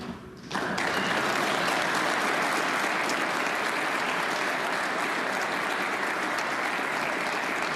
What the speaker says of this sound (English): That prolonged applause is for Ireland's Aaron Hill